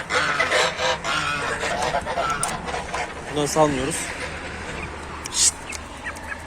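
Geese call out a few times in a poultry yard among other fowl, short honking cries mixed into steady nearby talking and background noise.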